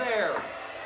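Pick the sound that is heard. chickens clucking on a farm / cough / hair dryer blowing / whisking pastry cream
hair dryer blowing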